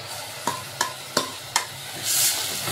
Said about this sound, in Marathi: आता आपण त्याच्यामध्ये टोमॅटो टाकूया।